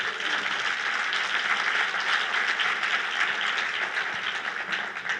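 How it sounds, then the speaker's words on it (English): Audience at a State of the City address applauding after a musical performance, a dense, even wash of clapping that holds steady for five seconds with no speech over it. "Let's give them a round of applause."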